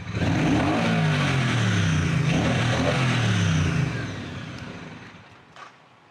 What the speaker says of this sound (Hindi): अब इसकी हम जरा रेव अप करते हैं,